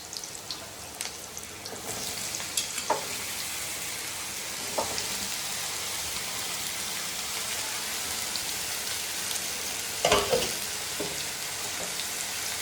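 Ridge gourd pieces fry in a pan, a constant crackling sizzle like rain that runs the whole way, broken now and then by a spoon scraping and stirring, with one sharper clatter near the end.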